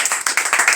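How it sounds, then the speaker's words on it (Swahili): A church congregation claps for the Lord. Quick, rhythmic hand claps come from many people in a brief, lively burst. "Simpe Bwana makofi mazuri."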